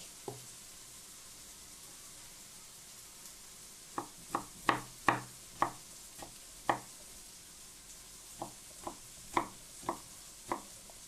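A knife chops vegetables coarsely on a cutting board while menemen is being made, giving an irregular run of sharp, close taps in scattered bursts against a quiet kitchen background.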